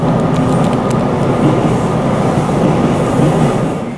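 A JR 283 series Ocean Arrow tilting limited express train roars past close by on the Kisei Main Line, a loud continuous rumble and rattle of wheels that eases off slightly at the end.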